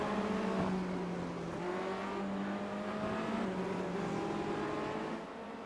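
A pack of Formula Renault race cars running nose to tail in a bunched train during a circuit race, engines droning steadily and loudly with overlapping pitch shifts as they pass, continuous throughout with no talk.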